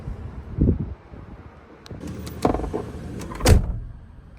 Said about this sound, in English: Can even adjust the headrest up and down right here if you'd like.